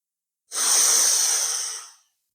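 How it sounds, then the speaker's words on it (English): One deep breath during a somatic breathwork session, a long airy exhale that starts sharply and fades out over about a second and a half, close and alone against silence. "Imagine filling your whole body with nourishing breath, nourishing oxygen."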